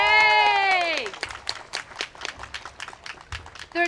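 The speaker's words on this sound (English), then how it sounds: "Can we give them an Oregon round of applause?" A crowd claps and cheers outdoors at the 2018 Capitol Christmas Tree whistle-stop event in Oregon, scattered applause fading over a few seconds after a bright tonal sound at the start.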